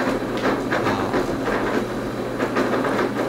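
A blender blade wobbles on its stem while processing, giving a dense, loud, steady roar with a rapid irregular rattling knock running throughout, with no talking.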